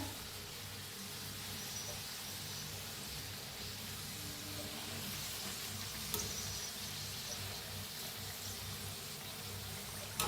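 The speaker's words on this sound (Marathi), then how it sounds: "छान दोन्ही साईडने तळून घेऊया" Banana puris deep-frying in hot oil, a steady soft sizzle and crackle running evenly throughout with no talk over it.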